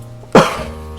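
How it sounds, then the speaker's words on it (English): One sharp, close cough bursts out loudly and then trails away into quiet room tone. "That was a cough"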